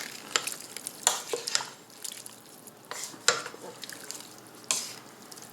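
A spoon stirring broth and starch into beef and broccoli in a pan on a medium stove, with intermittent scraping clinks and light bursts over a soft sizzle, close and fairly quiet.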